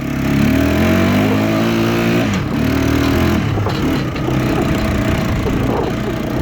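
A Kawasaki Bayou 220 2x4 four-wheeler's small engine runs close by, a loud steady putter with a couple of quick throttle blips, continuous and without talk.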